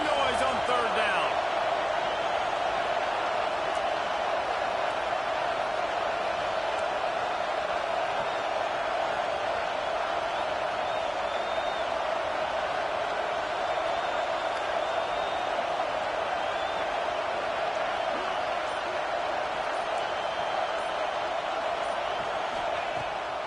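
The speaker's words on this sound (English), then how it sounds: "This Dog crowd is off the leash, and they are coming after them, bringing noise on third down." Georgia football stadium crowd roaring on third down against BYU, a dense, continuous wall of loud noise that holds steady without letup.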